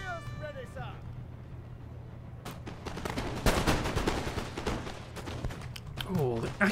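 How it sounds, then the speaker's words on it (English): Cannon and rifle volleys in a Napoleonic battle from the Napoleon: Total War strategy game, at the defence of Vilnius: a dense burst of sharp, overlapping shots and booms builds from the middle on, loud and continuous, with a voice talking over the opening and end. "oh, the accurate rifle fire has made them waver instantly."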